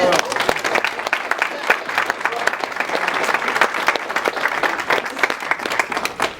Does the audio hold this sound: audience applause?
yes